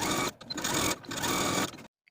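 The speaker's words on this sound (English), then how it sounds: "I'm going to sew from the top to the bottom 1/8 of an inch away from my original stitching line, just top stitching this seam to the blouse" Sewing machine top stitching a blouse seam, a close loud fast mechanical whir in three short runs separated by brief pauses, then stopping, no talk.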